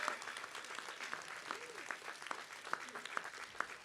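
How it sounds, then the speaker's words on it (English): An audience of family and friends at a College of Medicine commencement ceremony applauds steadily, with scattered distinct claps standing out above a fairly quiet, moderately distant wash of clapping. "let's give them a huge round of applause"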